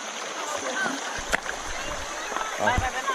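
Water splashes and sloshes in a shallow stream as rocks are set down to dam it, with irregular splashes over running water and voices talking nearby.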